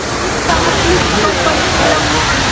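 Steady broadband rush of a waterfall at a scenic falls, loud and continuous throughout, with faint voices murmuring in the background.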